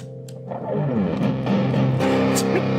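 Heavy distorted electric guitar in drop C tuning playing low, chunky riffs and chords, loud and continuous after a brief quiet start, with no voices.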